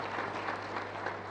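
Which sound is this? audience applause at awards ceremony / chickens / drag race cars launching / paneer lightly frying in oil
audience applause at awards ceremony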